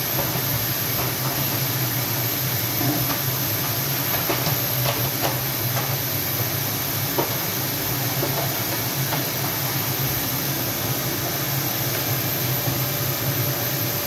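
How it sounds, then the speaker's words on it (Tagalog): A vacuum cleaner runs steadily while a bedroom is cleaned, giving a loud, continuous broadband whoosh and hiss with a low hum underneath and no talking. "Ngayon, mag-vacuum naman tayo ngayon dito sa kwarto ni madam."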